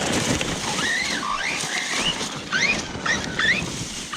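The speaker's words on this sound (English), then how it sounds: "If you pay attention to the throttle or the motor, you can actually hear it starting to get hot." A Redcat Kaiju EXT RC boat's electric motor whines in rising and falling pitch sweeps as the throttle changes, over constant wind and water noise outdoors.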